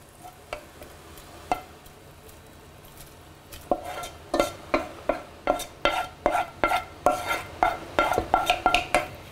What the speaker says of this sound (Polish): całą zieleninę do garnka z bulionem.